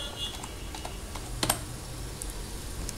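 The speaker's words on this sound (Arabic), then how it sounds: "اضغط على اد، وهنيجي نكتب هنا احمد" Sparse keystrokes on a computer keyboard while a new user account is entered in Windows, a few faint clicks with one louder cluster of taps near the middle, over a low steady background hiss.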